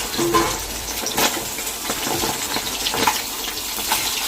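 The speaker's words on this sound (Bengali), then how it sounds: "দেখি মাছটা ভাজা হয়েছে কতদূর।" Fish frying in a pan, a loud, close, steady hiss of hot oil with a few crackles and scraping knocks.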